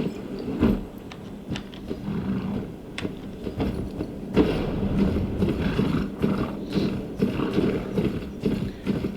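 Horse hooves clip-clop steadily over a continuous ambient bed in the Game of Thrones Kingsroad video game, the rhythmic footfalls fairly close and moderately loud throughout, with no talking.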